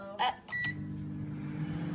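A microwave oven with marshmallows inside: a few beeps, then a steady low electrical hum as it runs.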